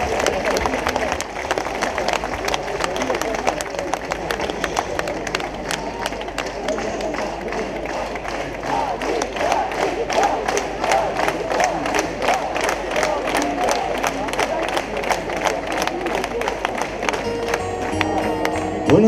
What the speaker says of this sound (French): Et on applaudit le public.